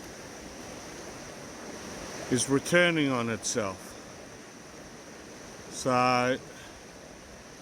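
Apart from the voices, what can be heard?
creek water flowing over bedrock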